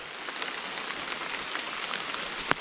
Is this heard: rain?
yes